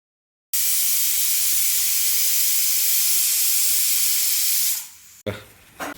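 A loud, steady hiss of steam from a pressure cooker boiling with turmeric and salt rushes for several seconds, then fades into a few softer bursts.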